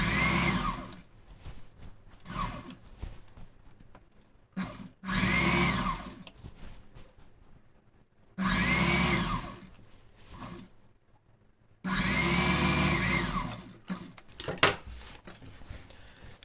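An electric sewing machine stitches a tuck into a skirt during a pavadai sattai alteration. It makes close, steady whirring runs of a few seconds each, broken by short pauses, with no talking.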